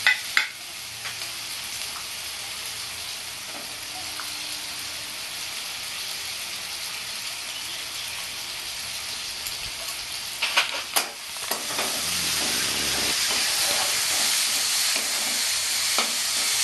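Ginger and garlic fry and sizzle in a pan for Bengali-style raw jackfruit with prawn, a continuous close hiss that swells louder partway through, with occasional stirring clicks.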